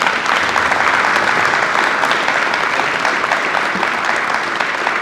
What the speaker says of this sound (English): Please give those folks a round of applause.